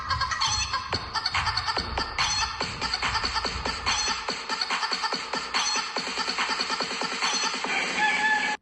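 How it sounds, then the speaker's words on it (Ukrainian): Busy poultry noise fills the clip: hens clucking in quick bursts with sharp, repeated calls, loud and close, a rooster among the flock in a farmyard. "Подивіться, який гарний півник до нас завітав."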